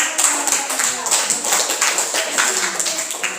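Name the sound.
audience applause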